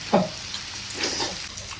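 Oysters frying on a hot iron griddle, a brief sharp sizzle burst at the start that fades into a soft crackle, close up with no talking.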